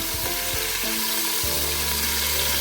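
Thawed frozen meat sizzles steadily in a hot pan as it is broken up, with a continuous close frying hiss and a few scraping knocks of the utensil against the pan.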